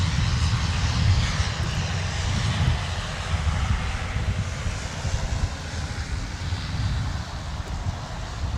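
A Sun Country airliner taxis at Minneapolis–St. Paul Airport, its engines producing a continuous broad roar with some wind buffeting, steady and fairly loud from start to finish.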